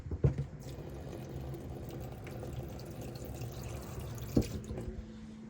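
A camper's water pump draws water that runs and gurgles quietly through pipes, with a faint steady flow and a couple of soft clunks near the start and end.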